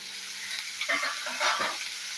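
Onions for an egg curry are stirred while frying in a pan, a soft steady sizzle punctuated by a few scraping spoon strokes, close and fairly quiet.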